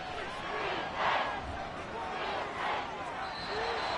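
Stadium crowd noise from an American football video game, Texans versus Colts, swells in waves of cheering and roaring, with a loud surge partway through and commentary-like voices mixed in.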